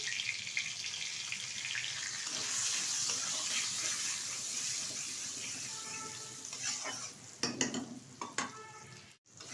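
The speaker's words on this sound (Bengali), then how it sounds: "আলুটা বেশ কিছুক্ষণ তেলের সাথে নেড়ে চেড়ে নিয়েছি" Potato pieces fry in oil with cumin, a bay leaf and turmeric while a utensil stirs them, making a steady sizzle with scraping strokes. Toward the end come sharper clatters and a brief pause, and no one speaks.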